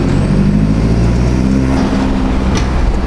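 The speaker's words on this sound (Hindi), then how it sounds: "एग्जॉस्ट सुनाता हूँ कैसे साउंड करता है।" Exhaust of a Skoda Octavia VRS idles and revs at close range, a loud, deep, steady engine rumble with a slight rise in pitch partway through and no voices.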